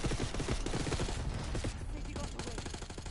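Dense, continuous automatic gunfire in Call of Duty Black Ops 6 on PS5 rattles loud and close in rapid bursts for a street shootout at a passing limo, with game voices barely audible under it.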